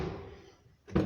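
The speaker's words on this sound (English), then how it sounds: "So if I just shake the door" Mazda 626 GF car door being shaken, a low rattling rumble that fades, then a single sharp knock or thud near the end, close up.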